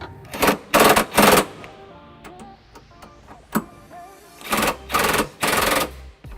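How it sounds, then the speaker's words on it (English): Ratcheting socket wrench with an extension and 3/4 socket snugging up trailer hitch bolts on a 2002 Pontiac Aztek, heard as bursts of rapid clicking in short runs, two or three quick pulls at a time, with pauses between. "extension and a 3/4 socket to snug up the remaining bolts"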